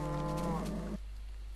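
A single Minecraft cow gives one drawn-out moo, close and clear, cutting off sharply and leaving a low steady hum.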